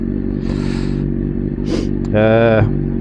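A motorcycle engine revs while being ridden on the road, a steady loud drone with a brief rising surge near the end, with some clattering and wind noise mixed in.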